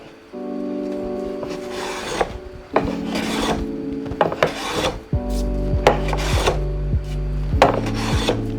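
A wooden workpiece clamped in a portable woodworking vise on a beginner's workbench is worked with repeated rough rasping strokes, close and loud. Steady tonal hums sit underneath.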